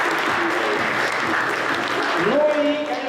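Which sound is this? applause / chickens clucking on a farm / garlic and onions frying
applause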